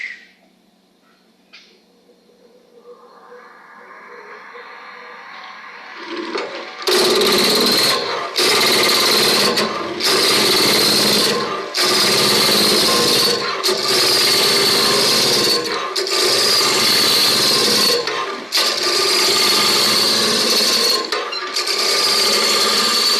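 A spindle roughing gouge cuts a bark-covered workpiece on a wood lathe, giving about eight loud, rough, rhythmic bursts of scraping and chatter after a quieter spinning lead-in, with no talking.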